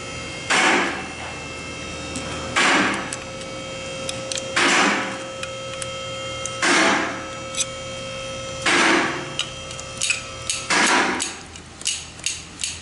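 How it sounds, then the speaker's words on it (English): A cleaned valve in a Nissan JF011E CVT valve body is pushed back and forth, giving about six evenly spaced sharp clacks roughly two seconds apart over a steady hum, with a quicker flurry of clicks at the end. "That's the valve moving back and forth."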